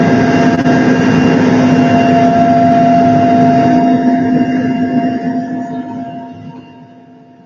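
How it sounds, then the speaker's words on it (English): A helicopter flies to Long Tien in Laos during a cave rescue operation, its loud, steady engine and rotor drone filling the cabin before slowly fading out over the last few seconds, with no talking. "This is the nice way to get to Long Tien, which is where essentially we were based out of the incident. It was about a 45-minute helicopter ride."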